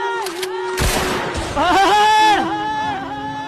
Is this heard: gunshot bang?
yes